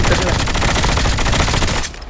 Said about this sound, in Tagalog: Baril-baril sila